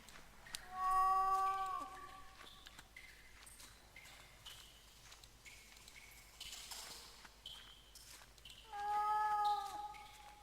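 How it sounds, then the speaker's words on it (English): Two drawn-out cat meows in the video game The Last Door, one early and one near the end, with faint clicks and background noise between them. "That sounds like a cat."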